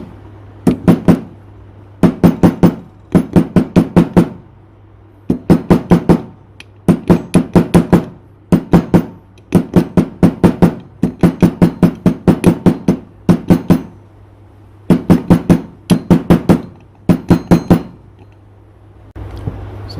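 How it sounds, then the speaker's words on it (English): Bursts of sharp, rapid hammer knocks driving a front axle seal into a Kubota B1550 tractor, several blows per group, repeated steadily with short pauses between, loud and close. "We'll whack that down with the old hammer"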